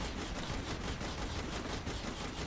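A vehicle-mounted machine gun fires in Saints Row: The Third: a steady, rapid stream of gunfire with no break, dense and even throughout, with no talking.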